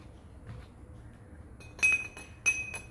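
A spoon stirs a turmeric extract mixture with a neutral substance in a glass, giving two sharp bright clinks against the glass after a quiet start, close and alone.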